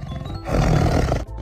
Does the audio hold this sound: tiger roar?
yes